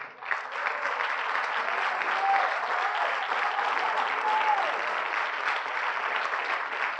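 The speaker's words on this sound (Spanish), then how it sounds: "Ahora sí, dele un aplauso al Padre." Steady, dense applause from a church congregation honoring the Father, sustained at an even level for several seconds and filling the room without pause.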